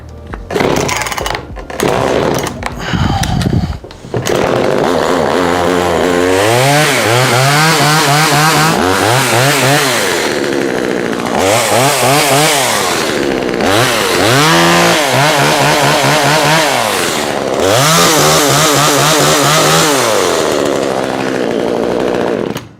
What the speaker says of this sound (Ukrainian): Все, пила заправлена, підкачаємо паливо праймером і запускаємо.